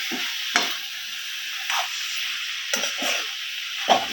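A ladle stirring cabbage curry cooked with fish head in a sizzling pan, several scraping strokes at irregular intervals over a constant frying hiss.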